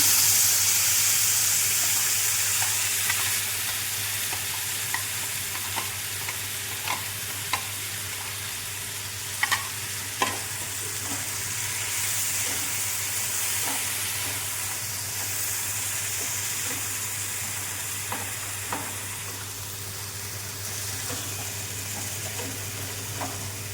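Soybean kosha cooking in a pan gives a steady sizzling fry for the whole stretch, with a few soft scrapes and clicks of stirring scattered through it and no voices.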